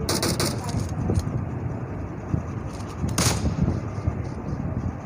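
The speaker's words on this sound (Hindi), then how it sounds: "और नॉक किया है हॉट किलर को, नॉक किया बाबा जी। और इनको भी पड़ा शॉट" Gunfire in the mobile battle royale game PUBG Mobile: repeated loud, dense shots and booming blasts crowding the whole clip, with a sharp burst near the middle over a steady noisy bed.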